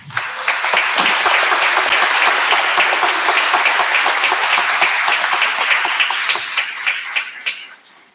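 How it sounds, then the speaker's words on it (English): An audience at a school district board meeting applauds students in sustained, loud clapping that holds steady for several seconds, then thins to scattered claps and fades out. "Let's give these remarkable students a round of applause."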